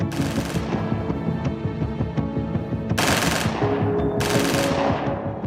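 Loud bursts of automatic gunfire rattle off in rapid strings, with sharp cracks that break out again in heavier volleys.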